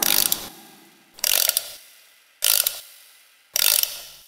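A clockwork mechanism being wound by hand, four separate bursts of rapid ratchet clicking with short quiet gaps between them, close and clear.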